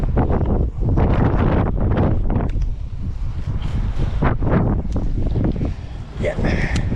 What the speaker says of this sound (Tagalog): Medyo mahangin po mga toto